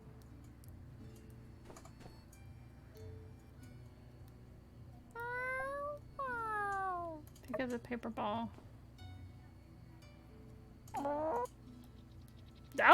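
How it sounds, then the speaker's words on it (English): A cat in the video game Sandrock gives several short meows in a row, a few of them oddly pitched, clear against quiet game ambience, with a brief spoken line nearby. "That was a weird meow."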